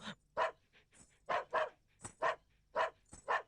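A dog barks outside a house in a rapid run of about nine sharp woofs over a few seconds, loud and fairly near, with no speech over it.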